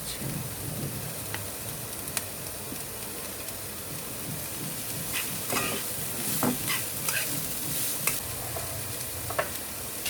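Cabbage and mixed vegetables stir-frying in a pan for vegetable fried rice, with a steady sizzle and scattered scraping and stirring clatter throughout, close and moderately loud, no talking.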